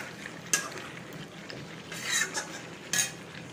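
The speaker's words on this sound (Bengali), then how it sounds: "এটা কিউব চিকেন আর পেঁপে দিয়ে সিদ্ধ করছি।" Cubed chicken and papaya cook in a pot, with a faint sizzle under a few sharp metal clinks of a spoon against the pot.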